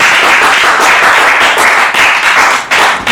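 Women clapping together at a couples game show, a dense, loud, continuous patter of handclaps sustained for a few seconds without a break.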